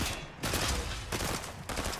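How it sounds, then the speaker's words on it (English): Video game gunfire aimed at the player, loud rapid volleys in three dense bursts with short gaps between them, close and harsh with no voices. "Hey, stop shooting at me like that."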